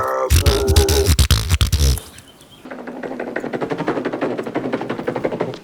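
Beatboxed 8-bit video game gunfire from a film scene: a rapid, loud burst of clipped mouth-made shots that breaks off, then a steady stream of vocal percussion imitating the shooting, all produced by a voice.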